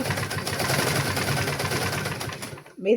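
A sewing machine stitches the hem of a lungi slowly, its needle giving a steady, close mechanical rattle for a few seconds before stopping abruptly, followed by a short faint rustle.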